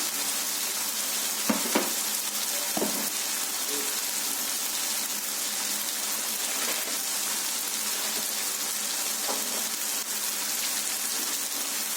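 Chilli powder, roasted coriander powder and garam masala are stirred into a mushroom curry frying in a pan. A constant close sizzle runs throughout, with a few brief spoon knocks.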